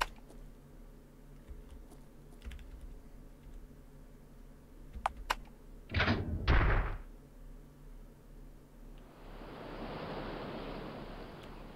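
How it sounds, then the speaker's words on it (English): In the video game The Witch's House MV, a quiet hum and a few soft thumps, then a rush of running water starts and continues steadily to the end. "You heard water running."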